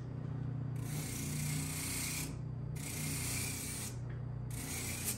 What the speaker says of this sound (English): I like to use flap sanders. They work good for me. This is a 240 grit.